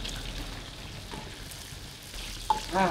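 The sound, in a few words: chicken wings frying in oil with turmeric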